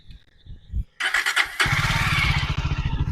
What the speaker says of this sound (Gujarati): એક જ સેલ્ફે ગાડી સ્ટાર્ટ થઈ જશે